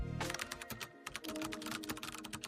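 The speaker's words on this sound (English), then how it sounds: "Oh, keyboard sounds." Rapid keyboard typing, a fast, close run of crisp key clicks with a brief pause near the middle, heard alone with no voices.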